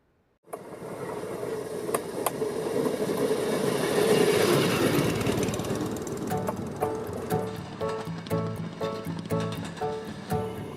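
A small railway motorcar rumbles along the track, the clatter building then settling into a rhythmic clacking of wheels over rail joints.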